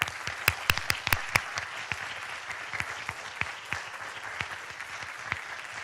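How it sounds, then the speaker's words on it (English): An audience at a high school awards ceremony claps for about six seconds, starting with several sharp, loud claps and then settling into steady, moderate applause. "round of applause."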